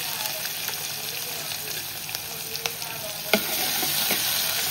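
Onion, curry leaves, ginger, garlic and chili frying in oil in a pan for chana bhaji, a steady close sizzle with scattered sharp crackles and spoon clinks, no voices.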